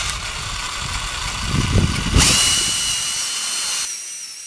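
A power drill whines as it bores screw holes into an oak garden bench, the motor rising to a sharper, higher pitch midway before cutting off near the end; close and loud, with no talk.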